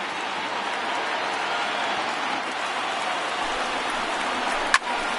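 A crowd of over 39,000 at a Phillies–Braves baseball game stands and cheers, a dense, loud, sustained roar of applause and shouting that fills the whole stretch, with one sharp crack near the end.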